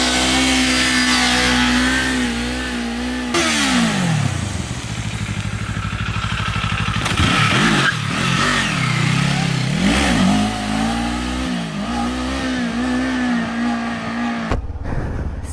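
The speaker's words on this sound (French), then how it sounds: "Elle est trop bien cette petite moto." A small Kawasaki motorcycle engine revs hard while being ridden, climbing and dropping through gear changes with sharp throttle blips and an aggressive, buzzing exhaust note, loud and close throughout.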